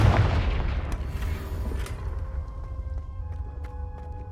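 A fiery blast spell goes off in the game Hogwarts Legacy, a loud booming impact that rumbles and fades over a few seconds, followed by faint scattered clinks.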